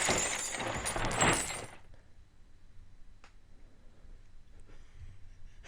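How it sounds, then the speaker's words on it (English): A car crash sound effect: a loud burst of shattering glass and crunching debris for under two seconds, then quiet with faint scattered tinkles of falling pieces. "that was the sound of a car crashing"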